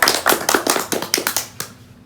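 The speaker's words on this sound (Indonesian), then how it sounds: "Tepuk tangan dulu." A small group at a student talk show claps in a short burst of about ten uneven, fairly close hand claps that die away after under two seconds.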